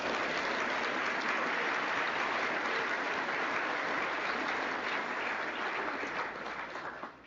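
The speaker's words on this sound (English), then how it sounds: "Let's give a round of applause for the class of 2028." Audience applause for the incoming class at an optometry white coat ceremony, a dense, steady roar of many hands clapping that runs for several seconds and fades at the end.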